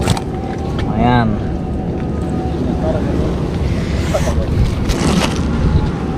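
Strong wind buffeting a microphone at sea during a fishing trip with a lift net in extreme weather, a steady loud roar throughout with a brief tonal whine and people talking over it.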